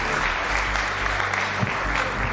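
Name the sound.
applause for robotics team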